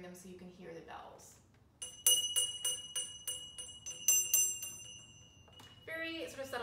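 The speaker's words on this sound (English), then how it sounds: "I'm gonna manually ring them so you can hear the bells." Several small servants' call bells, rung by hand, ring out one after another, bright metallic dings with lingering overtones, close by, with a voice speaking briefly before and after.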